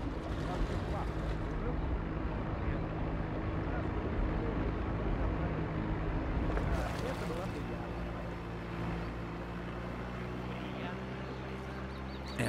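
In the Sniper Ghost Warrior 2 video game, a boat engine drones steadily as the boat passes with wind and water noise, the sound softening partway through, while voices talk over it.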